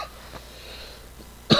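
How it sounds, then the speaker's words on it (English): A single short cough close to the microphone at the end, after quiet room tone with faint background game sounds. "Just coughed a bit there."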